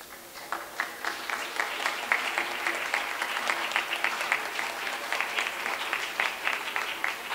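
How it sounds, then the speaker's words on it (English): An event audience gives a sustained round of applause, dense overlapping hand claps that carry steadily for several seconds at moderate volume with no voices standing out. "let's go ahead and give Mary and the volunteers a big round of applause."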